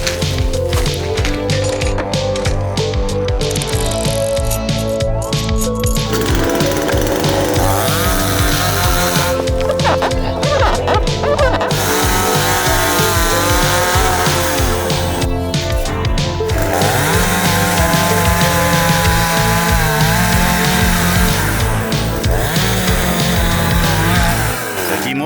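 A chainsaw running loud and close at a forest campsite, a sustained buzzing engine drone that holds steady for a long stretch with brief dips and surges in pitch, no voices.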